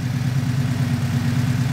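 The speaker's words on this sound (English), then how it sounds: "So I'm revving it up right now to kind of clear it out." A turbo V8 police car with its charge pipe removed and gas in the intercooler runs at steady, raised revs. The low, throbbing engine hum is close and holds constant with no talk.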